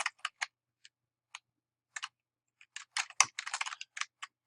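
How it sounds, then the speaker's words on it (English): Keys on a computer keyboard are typed in short, irregular bursts of crisp clicks, with sparse taps at first and then a denser flurry, close and fairly quiet with no voices. "We're going to type in the words simplify."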